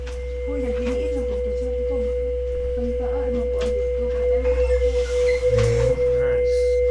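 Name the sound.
held electronic tone from drawing-with-sound toy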